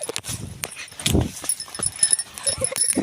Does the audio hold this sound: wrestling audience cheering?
no